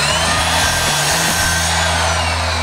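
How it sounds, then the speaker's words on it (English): Miter saw cutting through a wood plank for a picture frame, one loud sustained whining cut close to the mic from start to finish, with no talking. "we're gonna make those cuts using our first tool, the miter saw"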